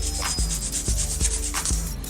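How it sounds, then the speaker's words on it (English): Repeated rubbing strokes of a sanding stick against a hard plastic edge during an in-dash tablet install, a rhythmic scratchy back-and-forth close to the ear. "You use your sanding stick and you just smooth it out."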